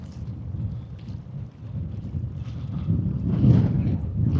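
Gusty wind at a lakeside at Coniston in the Lake District buffets the microphone with a low, uneven rumble that swells toward the end, with no talking.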